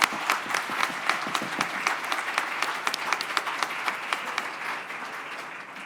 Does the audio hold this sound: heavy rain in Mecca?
no